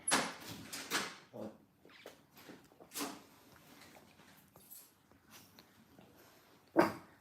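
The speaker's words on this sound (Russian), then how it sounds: "я надеюсь, собачка вас не оглушила моя" A small dog indoors at home lets out a series of sharp, irregular barks, some loud and some fainter, with a final loud bark after a quiet stretch.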